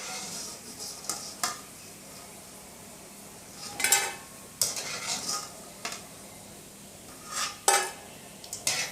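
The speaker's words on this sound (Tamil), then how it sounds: "எடுத்து போடும்போதே அந்த பொரிஞ்ச சத்தம் நல்லா கேட்குதில்ல" Light crackling and sizzling from bitter gourd chips frying, broken by several sharp clinks of a utensil against a pan, with quiet gaps between.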